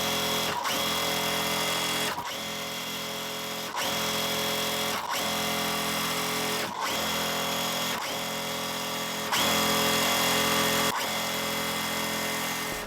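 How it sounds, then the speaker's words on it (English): Sewing machine stitching quilt block pieces together, a steady loud mechanical whir running in several bursts separated by brief pauses, with no talking. "what I'm gonna do now is sew them"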